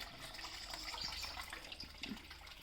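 Steady running water from a spout on a Nandi statue at a temple, a continuous moderate splash and trickle with faint background noise, no talk.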